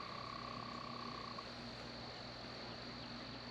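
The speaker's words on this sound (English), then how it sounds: "Tree frog?" Tree frog calling outdoors during a solar eclipse: a faint, steady trilling drone that carries on throughout under low background hiss, with no voices present.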